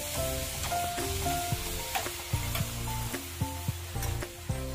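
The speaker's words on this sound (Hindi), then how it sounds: "तो नीचे की साइड में भी 1 मिनट तक इसे हम तल लेंगे और दूसरी पूरी भी डाल देंगे इसके अंदर।" Green peas puri deep-frying in hot oil makes a continuous close sizzle with faint bubbling, heard alone without talking beneath steady tonal background music.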